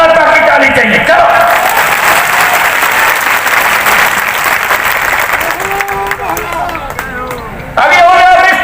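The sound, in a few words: crowd applause at political rally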